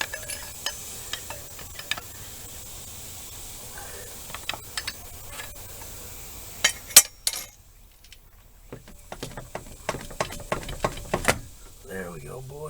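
Metal parts clink and clatter in scattered short bursts while an AC compressor is pulled from a 2004-2008 Dodge Ram 1500 with a 4.7L engine, with quiet gaps and brief scraping between the knocks.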